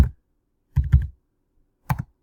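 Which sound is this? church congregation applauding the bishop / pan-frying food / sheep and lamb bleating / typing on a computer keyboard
typing on a computer keyboard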